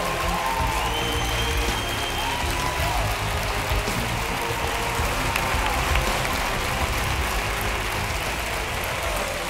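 A TV talent-show audience breaks into loud, sustained applause for contestant Dani during a semifinal, steady and dense throughout with no pauses.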